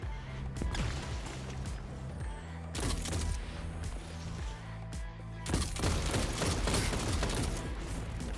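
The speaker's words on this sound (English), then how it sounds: "Doesn't that linear fusion rifle one tap to the head?" Linear fusion rifle shots in the game Destiny, heard as loud, sharp bursts of gunfire repeating throughout amid other in-game combat noise.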